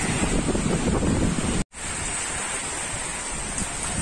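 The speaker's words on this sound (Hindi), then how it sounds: "दोस्तों काफी तेज हवाओं के साथ बारिश हो रही है" Heavy rain driven by strong wind during a storm, water blowing in under cover; a loud, steady roar of rain and buffeting gusts, broken by one brief silent gap midway, with no one talking.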